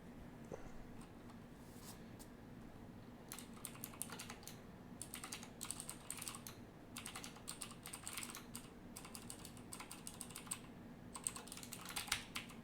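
Quiet, close typing on a computer keyboard, with irregular bursts of rapid key clicks separated by short pauses and a faint background hum.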